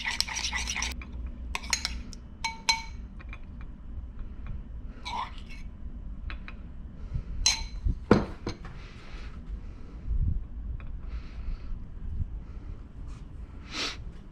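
A stuffed clam mixture stirred in a glass dish, quiet clinks and scrapes of a utensil in short irregular bursts, with soft background rumble.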